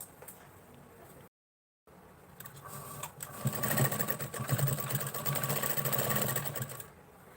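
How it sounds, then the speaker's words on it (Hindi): A sewing machine stitches a katori blouse, starting with a few slow whirs and then breaking into a fast, steady mechanical rattle of needle strokes close by before slowing to a stop. "तो अभी सिलाई लगा लेते हैं हम।"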